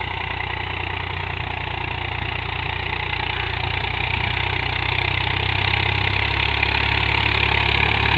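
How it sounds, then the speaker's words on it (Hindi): Swaraj 735 tractor engine running steadily at close range, a continuous loud mechanical drone with a low throb and no pauses, under no talk, during a power test in high gear. "ट्रैक्टर भाई"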